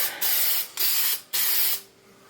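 Frosted glass spray goes on as a light coat in three short hissing bursts from an aerosol can, each about half a second long with brief gaps between, close and fairly loud.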